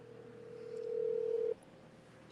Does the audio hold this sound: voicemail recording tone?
yes